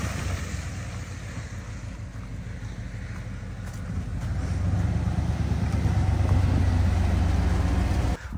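A cold plow truck engine runs with a rough, low rumble that grows louder partway through, heard close and mixed with wind buffeting the microphone.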